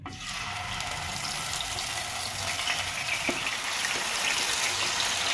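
Marinated mutton frying in oil on a hot tawa for mutton sukka, a steady loud hiss and crackle that holds evenly throughout with no voices.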